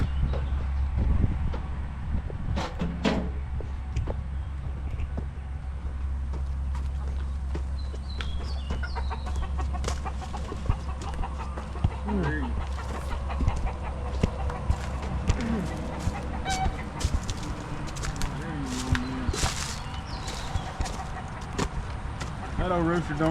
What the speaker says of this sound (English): That old rooster don't like me much.